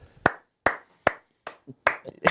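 Single hands clap about five times at an uneven, slow pace, each clap sharp and close, with short quiet gaps and a faint murmur between.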